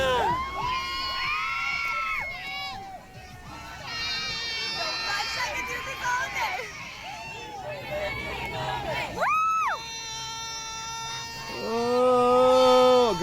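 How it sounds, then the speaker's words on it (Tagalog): A crowd screams and cheers in high, piercing bursts for SB19 busking in Times Square, New York, with voices talking close by and a loud swell of shrieking near the end. "Grabe yung sigaw nun."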